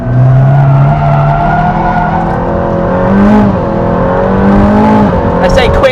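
An Aston Martin Valhalla is driven hard on a track with the tail sliding out, its engine holding a loud, steady high drone with small pitch changes. A voice talks over it throughout.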